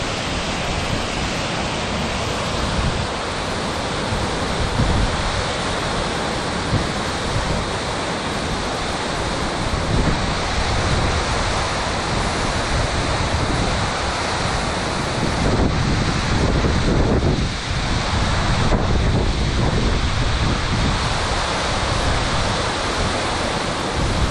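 Steady, loud roar of rushing water with no pauses, a broad continuous wash of noise from the nearby Burkhan Bulak waterfall in Kazakhstan.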